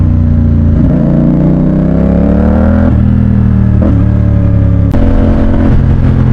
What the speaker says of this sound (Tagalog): Sakay tayo ng CLC 450. Ganda ng tunog.